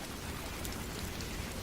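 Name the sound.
heavy pouring rain in a cartoon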